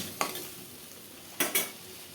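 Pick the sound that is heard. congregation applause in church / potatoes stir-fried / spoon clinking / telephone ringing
potatoes stir-fried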